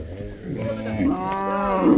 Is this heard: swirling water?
no